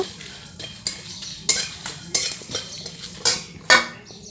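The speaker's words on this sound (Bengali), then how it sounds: "গোটা গোটা ধনে দিয়ে ভালো করে নাড়িয়ে নিল" A spoon scrapes and knocks against a pan while whole coriander seeds are stirred for a kuler achar (jujube pickle). Irregular metallic clinks and scrapes sound close and fairly loud, with no voices.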